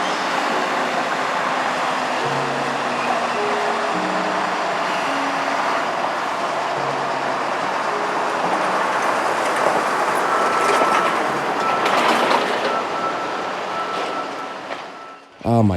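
An EMD locomotive leading three modern six-axle CSX GE locomotives passes through a rail yard, a sustained broad rumble and roar of engines and rolling wheels that swells slightly mid-way before cutting off.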